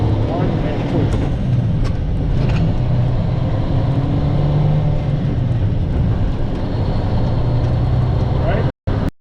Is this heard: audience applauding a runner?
no